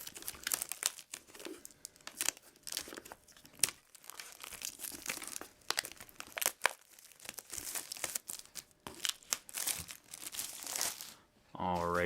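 Crinkling and tearing of plastic wrap as a Magic: The Gathering Gatecrash fat pack is opened, with sharp close rustles, crackles and rips coming in quick irregular bursts and a short sliding scrape at the end.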